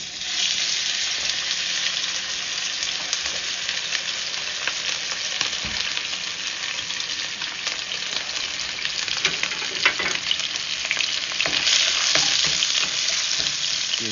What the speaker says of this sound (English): Once it's rubbed in, I'm just gonna throw it in this fryer.